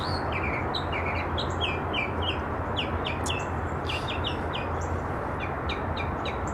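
Small bird chirping repeatedly in the morning, quick bright tweets scattered over a constant low hum of background noise, with no talking.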